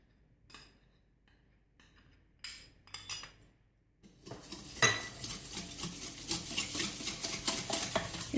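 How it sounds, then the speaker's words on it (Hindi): Spoon stirring a fruit soufflé custard mixture of custard powder and sugar in a pot, with faint clinks at first, then steady near scraping and stirring. "इन सब को हम अच्छी तरह से मिक्स करके ये देखें जी, ये अच्छी तरह से मिक्स हो चुका है।"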